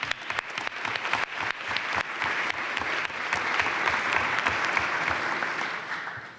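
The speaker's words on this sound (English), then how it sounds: "Let's give them a hand." A crowd at a political forum on Amendment 3 claps for elected officials in the room, dense, even applause that holds steady throughout.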